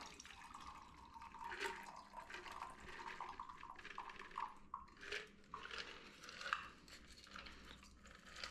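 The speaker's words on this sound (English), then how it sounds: "So I'm going to use my Hawthorne strainer here and dump through that." A Mai Tai cocktail is strained from a shaker tin through a Hawthorne strainer, a quiet close trickle and splash with faint ice clinks, and no voices.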